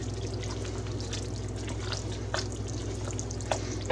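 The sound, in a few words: stirring cooked ground beef in a pot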